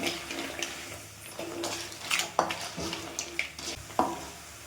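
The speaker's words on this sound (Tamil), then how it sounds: "தண்ணி சேர்த்துனா நல்லா கலந்து வைக்கணும்" Water being stirred into a gravy of cleaned country crab, soft sloshing and scraping strokes at an uneven rhythm, fairly quiet and close with no talk.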